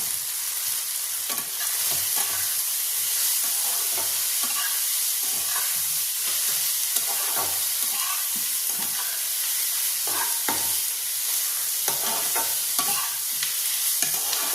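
Chicken liver cooking with spices in a pan, stirred with repeated scraping strokes over a loud, steady sizzle that runs throughout without talk.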